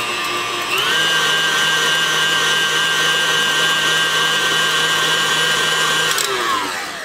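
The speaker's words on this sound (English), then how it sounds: "Let's blend this." A kitchen blender whirs steadily for several seconds while blending pineapple pie ingredients, spinning up near the start and winding down at the end, loud and close with no talking.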